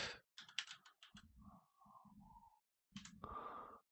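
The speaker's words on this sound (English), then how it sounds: "I wonder if we can get it by just typing it in" Quiet keystrokes on a computer keyboard come in short clustered bursts, mixed with soft tonal game sounds and brief pauses of silence.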